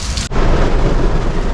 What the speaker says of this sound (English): We got caught in the rain. Like, pouring down rain.